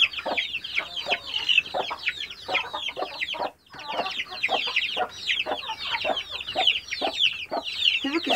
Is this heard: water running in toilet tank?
no